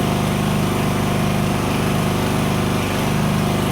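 A homemade inverter generator driven by a GAB-1-P/30 engine runs steadily and loud, a constant buzzing drone with a fast engine pulse underneath, no talk over it.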